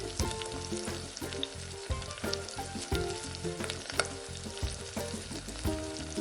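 Sour yogurt sizzling and frying with cashew and poppy seed paste in a pan, a steady close crackle and hiss with soft stirring scrapes throughout.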